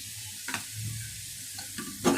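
Ground spices with turmeric, chili and coriander powder fry in a pan for a green pea kurma, with a steady sizzle and a few scraping stirs of a spoon.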